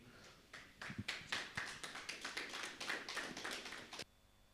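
Applause from a church congregation welcoming the choir Nueva Alegría at a Quechua prayer service: a brief, fairly faint burst of many hands clapping that swells, holds for a few seconds, then stops abruptly.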